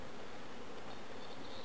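Honey bees from Georgia buzz steadily during a mid-summer hive inspection, a faint, continuous droning hum close by with no voices.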